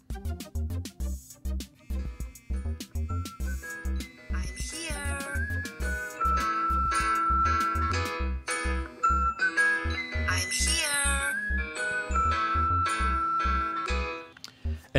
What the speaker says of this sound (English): as you can see, it'll start to ring and the flash will also go off